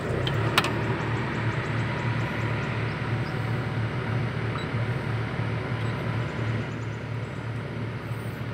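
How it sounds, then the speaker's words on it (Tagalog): An engine idling to warm up before a check-up, a steady low rumble with an even pulsing throb, close and continuous, with a single sharp click early on. "Painitin muna natin makina guys."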